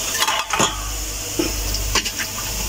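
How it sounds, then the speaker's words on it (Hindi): Boondi being mixed in a bowl, heard as a few close scraping and clinking strokes of a spoon against the bowl over a steady background hiss. "ये है जी बूंदी हमारी, इसको हम मिक्स करेंगे।"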